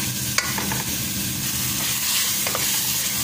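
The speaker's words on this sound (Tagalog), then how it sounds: "i-fry muna natin hanggat maging crispy guys" Chicken and potatoes fry in oil until crispy, a continuous loud sizzle with a few brief stirring scrapes and clinks near the start and again later.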